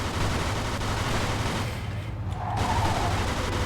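Gunfire crackles through a car chase in the video game Mafia 2, a dense, continuous barrage of shots layered over steady engine and road rumble, loud and unbroken throughout.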